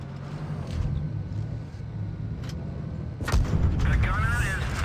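A tank fires an HE shell in World of Tanks Blitz, a heavy, booming cannon blast with a rumbling tail over steady engine drone, while voices talk.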